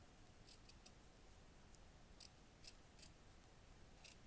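Scissors snipping through felt, a series of soft, close, crisp cuts in small irregular clusters against near silence.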